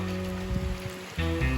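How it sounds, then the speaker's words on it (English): Rain falls steadily on a surface at a rural property in France, a continuous close hiss with a brief dip before picking up again, no voices. "Made it in time for the rain."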